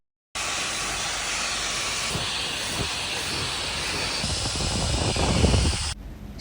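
A Dyson Gen5detect vacuum with a crevice tool cleans the corner of a sofa, its motor making a loud, steady, close whooshing hiss. Scraping and shifting suction noises build, then the motor cuts off near the end.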